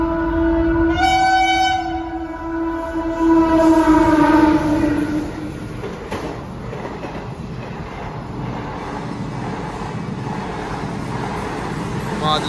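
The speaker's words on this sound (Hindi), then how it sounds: "ट्रेन आने वाली है, रेल की पटरी के यहाँ पर।" A train passes a railway crossing, opening with a loud, sustained horn blast and then giving way to a long rumbling, clattering roar of wagons going by, close and steady throughout.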